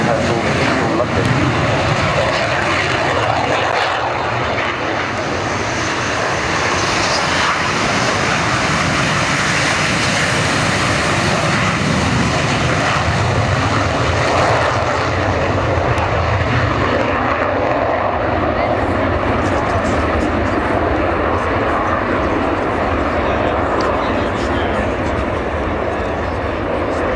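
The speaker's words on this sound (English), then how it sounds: "the two aircraft that will be rolling behind, they're the Hunters" Strikemaster and Hunter jet aircraft flying in mixed formation at an air display, a loud, continuous engine roar that swells and persists across the whole stretch, with a commentator talking over it.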